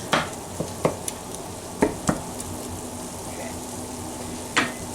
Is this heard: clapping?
no